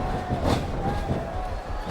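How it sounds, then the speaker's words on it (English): Arena crowd roaring and cheering in the WWE SmackDown vs. Raw 2007 video game during a 30-man Royal Rumble match, a sustained mid-distance swell of voices with a brief thud in the middle. "The crowd is coming alive."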